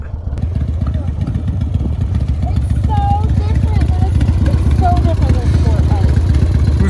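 A Harley-Davidson Dyna motorcycle engine rumbles close by in a deep, steady, pulsing idle that carries on throughout.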